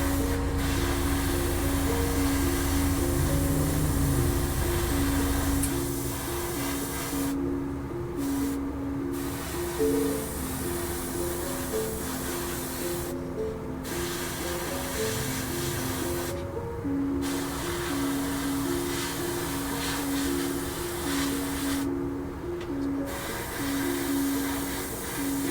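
An aerosol can sprays zinc coating onto a 1/32 scale P-40E Warhawk model airplane in a long, steady hiss, briefly interrupted by a few short pauses, with a low hum running beneath.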